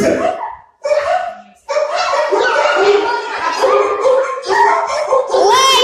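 Children imitate dogs barking, with yips, woofs and whimpering sounds mixed with laughter, loud and close throughout a busy group scene.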